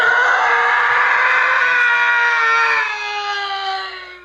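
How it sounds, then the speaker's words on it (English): A man's long, agonized falling scream, the Howie scream used in the 1996 film Broken Arrow, rings out loud and sustained for about four seconds with a wavering pitch that slowly drops and trails off at the end. "there's the Howie scream"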